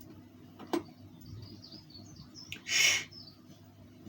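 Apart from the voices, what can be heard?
birds chirping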